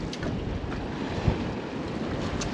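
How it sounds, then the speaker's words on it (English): Wind buffets the microphone aboard a commercial pompano fishing boat off South Florida as choppy sea slaps against the hull, a steady broadband rush with one brief thump, loud and close, with no voices. "it's not rough, but it's just windy and choppy"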